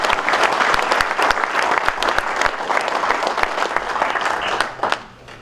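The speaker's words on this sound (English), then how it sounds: "just give him a quick round of applause" A round of applause at a spring meeting of assistants, many hands clapping steadily and fairly close, with individual claps standing out before the clapping thins and fades at the end.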